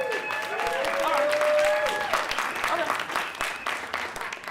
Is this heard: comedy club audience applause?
yes